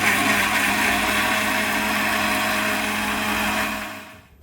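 A kitchen mixer grinds poppy seeds and cumin into masala, a loud, steady whirring drone that runs unbroken, then winds down and cuts off near the end.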